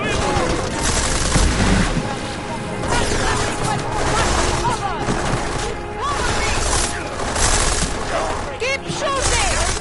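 Heavy, sustained gunfire rattles through a firefight in the video game Deus Ex: Mankind Divided. Bursts and booms overlap continuously, with shouted voices cutting through the shooting.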